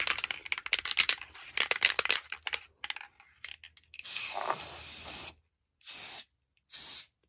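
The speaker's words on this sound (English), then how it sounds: "I'm not very good at spray painting." Brown spray paint hisses from an aerosol can onto custom Foxy action figure pieces, first with rattling and clicking handling noises, then a long spray burst followed by two short bursts, close and loud.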